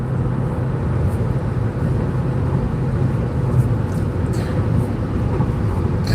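A car accelerates while changing lanes on the road, its engine and tyre rumble a steady low drone from inside the cabin, with continuous road noise and no clear talk.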